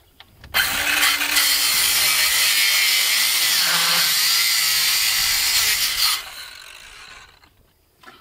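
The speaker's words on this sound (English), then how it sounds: "That's a jigsaw." Jigsaw cutting through material for shipping container cargo door stairs, a loud continuous rasping buzz lasting about five seconds, then winding down to quiet.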